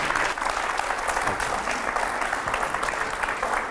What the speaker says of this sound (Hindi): आप लोग जोरदार तालियां बजाएं पहले तो।